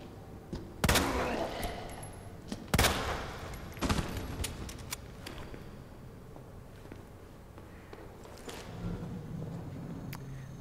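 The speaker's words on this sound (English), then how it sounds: "I feel more comfortable shooting with her." Gunfire from Ada's weapon in Resident Evil 2: a few sharp, loud shots spaced a second or two apart, echoing over a quieter background of footsteps and faint game ambience.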